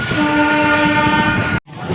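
Chennai–Tirupati Garudadri Express with a WAP-4 electric locomotive sounding a long, loud steady horn blast as it arrives, cutting off abruptly, followed by rumbling train noise.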